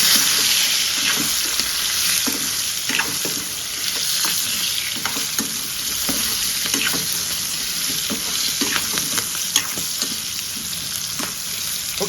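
Vegetables frying in a pan with fenugreek leaves, potato and tomato, a loud continuous sizzle with frequent stirring scrapes and light taps throughout, close up and without talk.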